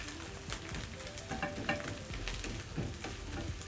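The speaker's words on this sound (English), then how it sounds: "So using medium-low flame, it's giving me time to break down the sausages and they are still cooking." Sausages sizzling in a pan over a medium-low flame, a steady soft crackle and hiss with occasional stirring clicks, close and fairly quiet.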